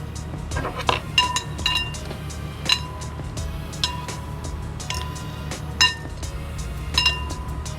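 Metal utensil clinking and scraping against a bowl while salt, pepper and herb seasoning is mixed for a green salad, a run of bright clinks and taps in an uneven rhythm, close and fairly loud, with no talking.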